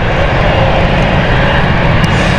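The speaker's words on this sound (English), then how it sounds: "We are expecting the Bullen flight soon with the Donier 328 jet." Dornier 328 jet operated by Sun Air for British Airways at London City airport on a stormy night, a loud, steady broadband engine roar filling the air with no pauses.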